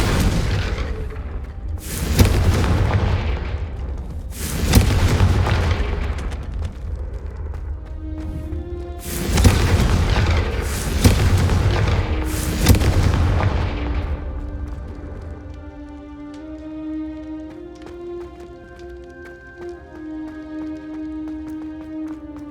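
Confringo fire spell explosions in the Hogwarts Legacy video game, several deep booming blasts in quick succession, loud and close, fading into a lingering musical shimmer.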